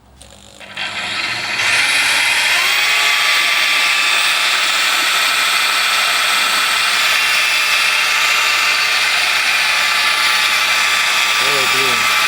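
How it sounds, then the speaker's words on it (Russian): Outboard motor driving a water pump through its gearbox on a barrel test stand, starting up and settling into a loud, steady high-pitched whine for several seconds with a faint voice near the end. "Сейчас мы проверим работу нашей помпы."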